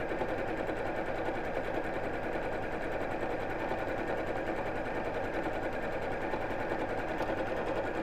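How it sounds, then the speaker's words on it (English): A sewing machine runs continuously while stitching a fabric double-pocket book cushion, a close, even mechanical hum and rapid needle chatter that holds steady the whole time without pauses. "and then carry on sewing"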